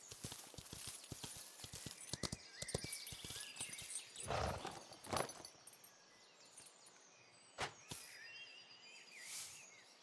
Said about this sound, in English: I guess we could canter and increase our speed as we travel